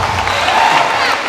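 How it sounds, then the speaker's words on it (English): Applause from a yearbook dedication audience, a dense, loud, steady wash of clapping from a crowd close by, lasting about a second with no talk over it. "So give yourselves a round of applause."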